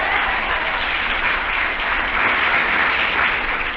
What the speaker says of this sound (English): I don't like the way you're clapping tonight.